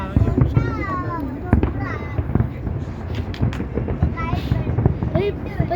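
Fireworks crackle and pop over the Burj Khalifa in Dubai at a New Year show, dense repeated bursts and whistles amid wind noise, with a person talking and a crowd cheering underneath.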